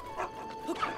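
A dog in Zelda: Breath of the Wild gives a couple of short, soft yips or barks, brief and fairly faint over a quiet game background.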